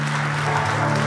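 A church congregation applauds in a loud, dense, continuous wash of clapping, steady from start to finish with a low hum underneath.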